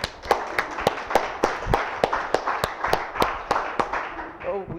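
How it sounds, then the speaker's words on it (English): Scattered, uneven claps from a live show audience after a call for a volunteer, sharp separate hand claps at a moderate pace rather than a full roar, fading near the end. "Big round of applause."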